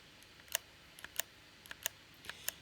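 Sharp plastic clicks from wireless gamepad trigger buttons in irregular pairs and small bursts, fairly close and quiet, with no talking.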